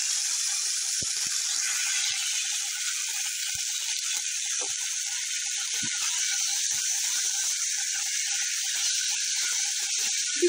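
About a tablespoon of oil heated hard in a cooking pot gives a continuous bright sizzle and hiss, steady and close for ten seconds, with faint clicks and small pops underneath and no voices.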